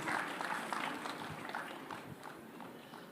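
A crowd applauding to welcome Baba Ramdev at a press event, dense rapid clapping from many hands, loud at first and gradually tapering off.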